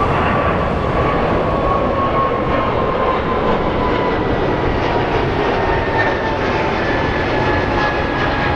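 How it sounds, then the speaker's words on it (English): An Airbus A220 jet at Phoenix Sky Harbor airport gives off a steady, loud engine roar with a faint high whine running through it, continuous and unbroken with no voices. "I'm a big fan of these A220s. Or should we call them the CS series jets?"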